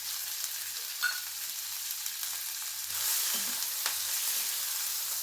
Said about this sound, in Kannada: ಎಲ್ಲವನ್ನು ನಾವು ಚೆನ್ನಾಗಿ ಫ್ರೈ ಮಾಡ್ಕೋಬೇಕು, ಆವಾಗ ಮಸಾಲೆ ತುಂಬ ಚೆನ್ನಾಗಿ ಬರುತ್ತೆ